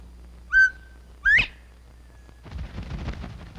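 Two sharp, rising whistled bird calls a moment apart, fitting a quail calling across summer fields, clear against a quiet outdoor background, followed by soft rustling noise.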